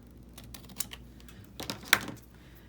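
Paper tags cut from card stock with scissors, a few short crisp snips and clicks at close range in an otherwise quiet room.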